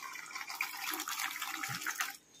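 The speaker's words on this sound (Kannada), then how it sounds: "ಅದಕ್ಕೆ ಫಿಲ್ಟರ್ ನೀರು ಹಾಕ್ತಾ ಇದ್ದೀನಿ." Filtered water pouring into a vessel, a close, gurgling splash that runs steadily for about two seconds and then stops, with no voices.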